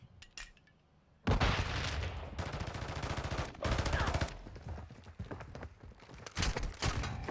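Video game gunfire, starting with a few faint shots, then loud, sustained automatic bursts in rapid clusters with brief gaps, close and dominant, occasional voices faint underneath.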